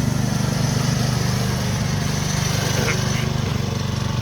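A go-kart with a 212 PowerPack engine runs steadily nearby with a continuous, buzzing small-engine drone and a faint voice underneath.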